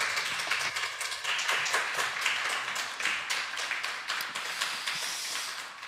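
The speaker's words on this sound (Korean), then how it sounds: "목사님 올라오실 때 큰 박수로 환영해 주시길 부탁드립니다." A church congregation claps to welcome the pastor to the front for the worship service, a dense run of hand claps with sharp individual hits, steady and moderately loud throughout.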